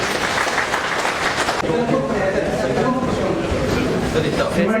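An audience at a Kannada community religious gathering breaks into loud, sustained applause, a dense wash of clapping from a large crowd filling the whole stretch, with some voices mixed in.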